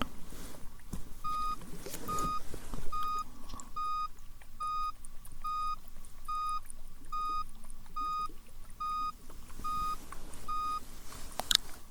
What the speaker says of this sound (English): How many beeps was that?